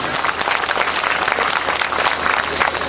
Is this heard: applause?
yes